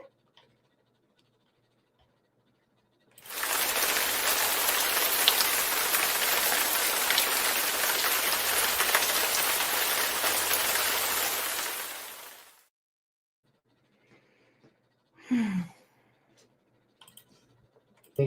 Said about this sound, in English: Thank you, Angel Pete, for making it rain.